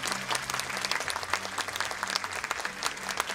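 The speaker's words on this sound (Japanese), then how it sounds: "皆様の盛大な拍手でお迎えください。" Audience applause at an advance anime screening event, a steady wash of many hands clapping with a faint low musical tone beneath, continuous and moderately loud throughout.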